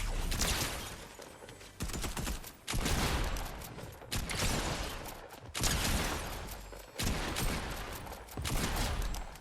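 Booming shotgun blasts in a video game, fired one after another at regular intervals of about a second and a half, each a loud close crack with a short decay. No talking.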